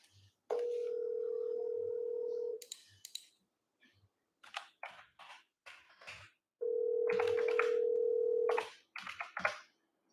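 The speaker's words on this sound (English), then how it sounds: "Okay, we're going to call him again." An outgoing telephone call ringing on the line: two long, steady ringback tones separated by silence, with a few clicks and small handling noises between them, close and clear.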